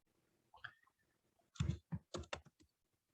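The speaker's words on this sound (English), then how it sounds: "You just have to type the correct answers." Quiet computer keyboard typing, a short burst of close key taps followed by a quick cluster of clicks, with no one talking.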